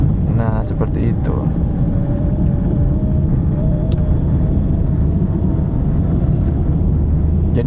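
A car engine pulls uphill after a downshift, a loud, steady, close low rumble that holds throughout, with a brief voice near the start.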